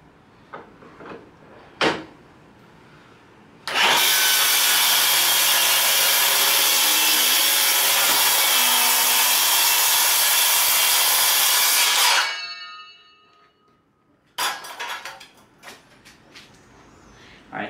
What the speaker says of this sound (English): I'm gonna do a test cut on this piece of plywood